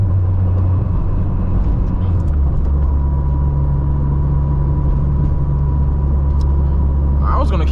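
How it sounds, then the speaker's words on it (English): A turbocharged 600 HP Honda Civic Si accelerating on boost on a wet road, a loud, steady engine drone heard from inside the cabin that shifts tone partway through, with a brief higher whoosh at the end. "Gotta love boost, man."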